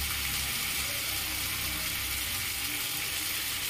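Water splashes into a pan of vegetarian bottle gourd kofta curry with ground coriander, cumin, chilli, turmeric and nuts, giving a steady close hiss and sizzle that runs throughout with no talk.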